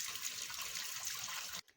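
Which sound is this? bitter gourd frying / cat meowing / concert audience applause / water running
water running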